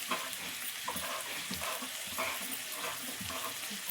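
Goat brain frying in a pan, giving a steady, dense sizzle and crackle that runs throughout at close range with soft stirring movements and no talking.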